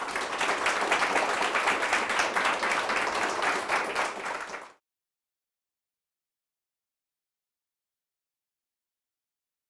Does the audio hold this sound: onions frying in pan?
no